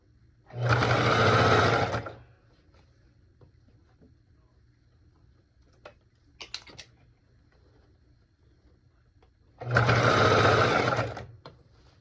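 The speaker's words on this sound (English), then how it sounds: "I'm just sewing these together" A sewing machine stitches a circle skirt waistband in two loud, steady bursts of about one and a half seconds each, separated by a quiet pause with a few faint clicks.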